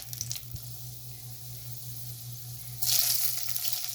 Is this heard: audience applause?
no